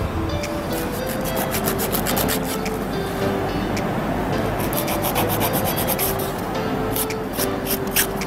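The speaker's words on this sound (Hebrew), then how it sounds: "אתן רואות? ממש שיוף עדין." Gentle filing of fingernails at a nail salon, a steady soft rasping scrape repeated in quick strokes, close and continuous with no talk.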